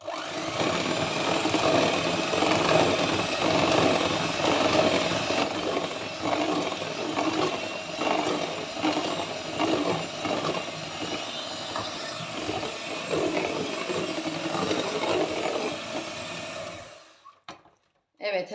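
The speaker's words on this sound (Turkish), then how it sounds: "şimdi düşük ayarda alttan üste doğru çırpacağım ki hamurum sönmesin" Electric hand mixer whirring steadily on a low setting as it whisks cake batter, a continuous dense motor drone that runs for most of the stretch before cutting off near the end.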